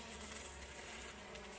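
A soft, steady buzz of honeybees humming close by as a queen bee cage is opened, continuous and even without a break.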